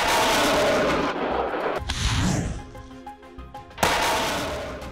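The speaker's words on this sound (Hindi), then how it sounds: "रूसी सेना FAB 500 बमों को गिरा रही है।" FAB-500 aerial bombs exploding in the Russia–Ukraine war near Staromayorske: heavy rumbling blasts and booming impacts, one sharp boom near the end, dense and loud with no talk.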